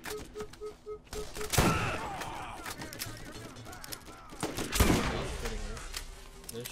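Gunfire in Borderlands: rapid shots and automatic bursts with two sharp louder cracks, over game effects, with a voice briefly present.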